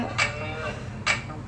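Two short moos from a cow sound in a song, spaced nearly a second apart over the music, with a voice talking quietly behind them.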